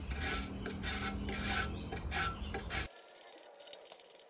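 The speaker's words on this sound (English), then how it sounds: "So I'm gonna take my chalk and my grater, I'm gonna go over my bowl" Sidewalk chalk is rubbed across a grater over a bowl in quick, scratchy rasping strokes for about three seconds, close and fairly quiet, then it stops and only faint room sound remains.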